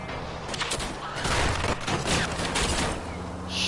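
Thompson submachine gun fire in a shooter video game, dense rapid bursts crackling through a loud, chaotic firefight that stays busy from start to finish.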